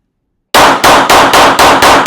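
Glock 23 Gen 5 MOS pistol fired at a shooting range: five loud, sharp shots in quick, fairly even succession after a brief silence, each with a short ringing tail.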